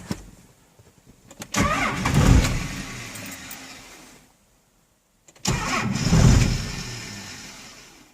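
A 12-valve Cummins diesel truck engine is cranked and fires into a rough, loud idle, then shuts off; after a short silence it is cranked again and catches, settling into a steady clattering idle. No voices.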